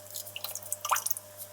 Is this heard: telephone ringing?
no